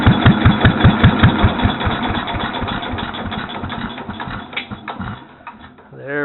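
A small engine on a pump display chugs with a rapid, rhythmic beat that settles into a steady idle, then winds down and shuts off near the end.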